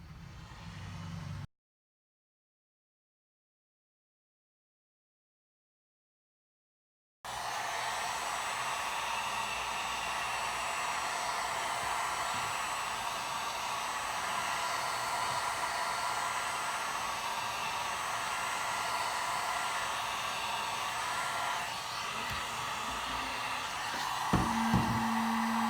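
Heat gun blowing on PVC pipe to bend it into a fuel can hose bender, a steady close whooshing hiss that starts after a brief silence and runs unbroken to the end.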